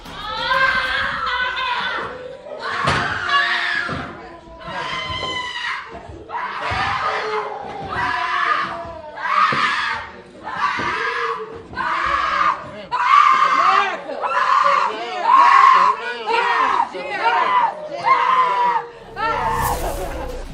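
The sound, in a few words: family members screaming in courtroom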